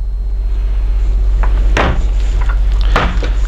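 Bedroom wardrobe door in a 2018 Newmar Dutch Star 4002 motorhome opening and closing, two loud close wooden knocks over a steady low hum, with no talk.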